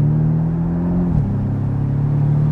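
Porsche 718 Boxster GTS engine on a PDK downshift, a close, steady low rumble that drops in pitch at the gear change and then settles into a burbly drone.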